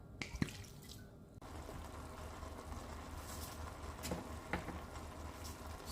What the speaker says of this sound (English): we'll add some of my homemade apple cider vinegar now.